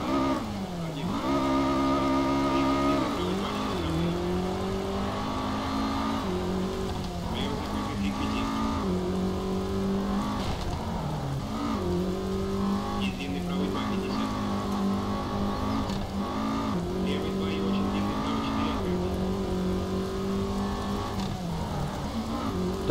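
A Lancia Delta rally car driving on wet asphalt in the game Colin McRae Rally 2005, its engine loud and close, repeatedly revving up and dropping with gear changes, with tyre noise throughout.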